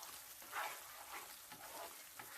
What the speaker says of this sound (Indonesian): Nih, udah mulai naik-naik minyaknya. Ditumis sebentar lagi,